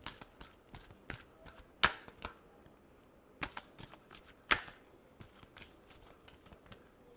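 Tarot cards shuffled by hand, with soft irregular riffles and sharp snaps in short bursts, close but faint, with no talking.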